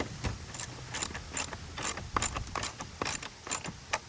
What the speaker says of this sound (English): And then we can tighten her.